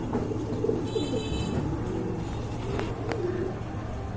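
Pigeons coo softly and repeatedly at close range in a loft or pen for sale, their low rolling calls overlapping against a steady background hum with a couple of faint higher chirps.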